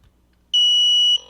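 A Taranis radio transmitter gives a single steady power-on beep, high and sustained for about half a second, then a brief softer chirp as it ends, in an otherwise quiet room.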